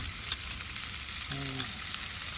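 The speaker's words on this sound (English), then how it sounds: "we can put you to sleep with sizzling bacon" Steady crackling sizzle of bacon frying in a pan, a dense hiss that continues throughout at moderate level.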